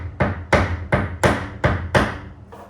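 Six sharp metallic taps of a special body-repair hammer striking an aluminium car body panel, evenly spaced and loud, each ringing briefly before the next blow, with no talking.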